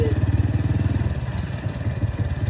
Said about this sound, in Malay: Apa yang bising sangat kau punya motor ni?